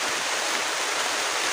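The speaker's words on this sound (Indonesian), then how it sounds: "Deras sekali teman-teman hujannya." Heavy rain pours in a forest at a campsite, heard as a dense, loud, unbroken rush of hissing water with no pauses.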